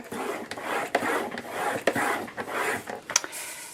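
Thick cardstock being scored along a scoreboard, giving a close, steady scraping rub broken by short taps and pauses as the tool is pushed along several lines, with no talking.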